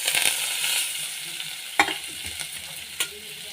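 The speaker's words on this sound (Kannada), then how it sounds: "ಎಲ್ಲವನ್ನು ಹಾಕಿ ಚೆನ್ನಾಗಿ ಫ್ರೈ ಮಾಡೋಣ." Onions and green chilies fry in a pan with a close, dense sizzle as a spatula stirs, giving a couple of sharp scrapes against the metal.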